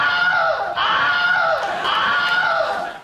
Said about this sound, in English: a scream sound effect that has appeared in over 150 films to date. It's called the Wilhelm scream